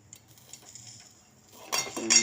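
A metal lid is set onto a pan covering a plate on a gas stove while rice-flour rotis cook, giving a quiet shuffle followed by a couple of bright clinks near the end.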